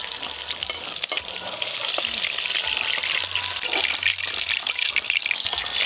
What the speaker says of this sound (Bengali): এইভাবে এই মাছগুলো ভেজে নেবো।